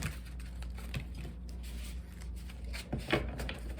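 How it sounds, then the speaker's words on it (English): Tarot cards being shuffled by hand, a close, faint run of soft riffling and papery flicks with small taps scattered across a few seconds, no voices. "Some shuffling."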